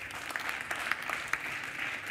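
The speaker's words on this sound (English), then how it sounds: "give us some more enthusiastic applause" Conference audience at a development-policy event applauding steadily, a dense wash of clapping with a few sharper claps standing out, moderately loud and without speech.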